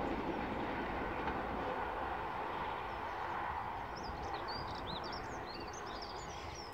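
A steady rumbling rush of a train rolling along the tracks at Dawlish Warren, continuous and fairly loud, with faint high bird chirps appearing near the end.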